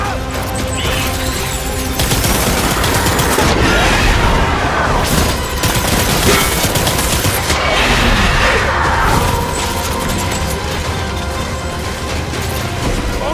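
Sustained gunfire in a video game shootout, with loud, continuous bursts of shots and crashes filling the whole stretch without pause.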